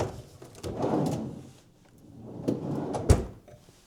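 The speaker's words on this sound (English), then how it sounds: "Drawers." Wooden drawers in a room at the Cloudveil Hotel in Jackson, Wyoming slide open and shut, giving soft rolling rumbles that end in a sharp closing knock, with no talking.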